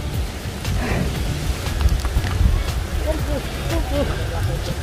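Rain falling during a motorcycle ride on a rural road in Doña Remedios Trinidad, Bulacan, a steady broadband wash of drops and wind that stays loud throughout, with people talking over it.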